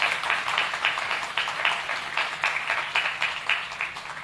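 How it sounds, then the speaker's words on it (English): An audience at a conference panel for the Governor of Tamil Nadu claps steadily, a dense, close patter of many hands with a slightly pulsing rhythm that carries on throughout without talk. "I think we can again clap for Honorable Governor of Tamil Nadu."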